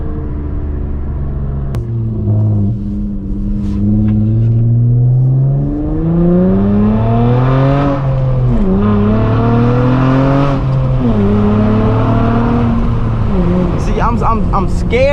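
A tuned 3.5L V6 Honda Accord from the eighth generation, running on 91+ fuel, revs at half throttle on backroads, its engine tone rising and falling steadily and loud throughout while a person talks over it.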